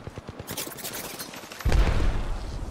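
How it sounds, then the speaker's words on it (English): Gunfire in the video game Apex Legends, a rapid burst of close shots followed by a heavier, louder stretch of firing and impacts, with no talking. "Listen up, I'm getting shot at."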